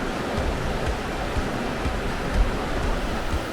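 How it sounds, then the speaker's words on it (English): Rushing water of Laurel Creek, a mountain stream along the Appalachian Trail, a steady broadband roar heard close by and alone, without voices. "I just love hearing the sound of the rushing water of a mountain stream."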